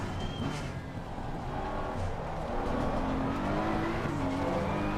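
BMW M4 GT3 race car at Paul Ricard in a racing game, engine droning steadily at moderate distance with a rising and falling pitch as it passes, no talk present.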